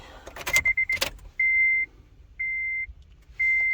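A car key jingles and turns in the ignition, followed by three evenly spaced long electronic chimes as the ignition switches on, close and clear with no voices.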